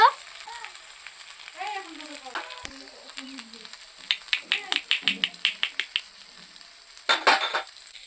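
A spatula stirs a frying mixture of masoor lentils and egg in a pan, making a run of quick, rhythmic scraping strokes over a low sizzle, with brief vocal sounds near the start.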